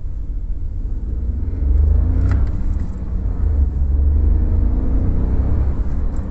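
A 2021 Dacia Sandero Stepway with a 90-horsepower engine accelerates, its low engine rumble swelling and holding steady from inside the cabin, loud and continuous with no talking.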